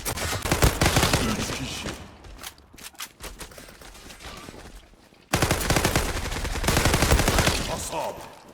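Rapid bursts of FN FAL Pro rifle fire in the online shooter Zula, loud and dense, with a quieter gap midway before sustained shooting resumes.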